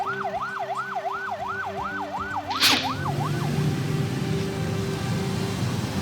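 An ambulance siren wails in a fast rising and falling pattern for a few seconds before cutting off, followed by a sharp burst of noise and low rumbling traffic.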